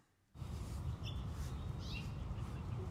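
Birds call in a soloed organic field recording used as a music sample: scattered chirps and calls over a steady noisy ambient bed that starts abruptly after a brief quiet moment.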